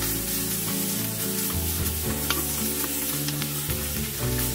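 Garlic and other ingredients sizzle and crackle steadily in a hot pan while being stir-fried for Hong Kong-style borscht, with occasional clinks of a utensil against the pan and no talking.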